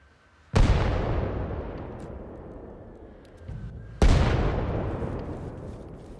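Two heavy AI mortar impacts landing in Arma Reforger, each a sudden loud boom with a long rumbling decay, the second arriving about three and a half seconds after the first, with a smaller thud between them.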